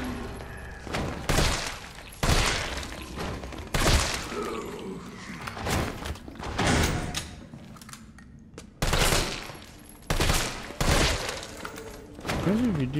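Bursts of assault rifle fire from Resident Evil 3 Remake, several short volleys spaced across the span, loud and close, with game music and effects underneath and a voice talking at points.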